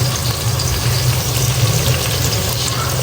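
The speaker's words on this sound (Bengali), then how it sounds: "পেঁয়াজটা যখন এরকম হালকা একটু ভাজা ভাজা হয়ে আসবে, তখন এর মধ্যে হচ্ছে আমি আদা রসুন বাটা দিয়ে দিব।" Sliced onion fries in hot oil with ginger-garlic paste in a home kitchen, making a loud, steady, unbroken sizzle with no voices.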